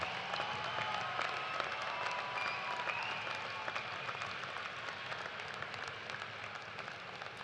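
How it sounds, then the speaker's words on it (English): Graduates at a University of Toledo spring commencement applaud their family and friends, a steady, fairly soft wash of clapping filling a large hall and holding evenly from start to finish. "please join me in another round of applause to thank these family members, friends, and loved ones"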